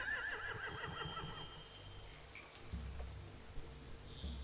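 Horses neighing in The Walking Dead video game: a whinny rises over steady rain and low ambient rumble, with soft clip-clop and background noise throughout.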